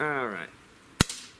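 A single sharp crack from a sawed-off Mosin Nagant M1891 replica BB gun fired outdoors at an aluminum can, preceded by a man's brief speech, with a faint metallic hit following the shot.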